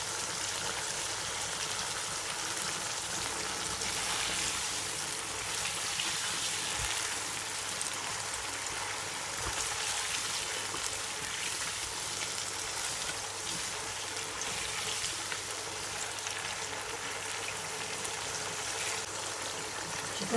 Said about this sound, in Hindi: चिकन को ऑयल में अच्छी तरह भून लेंगे।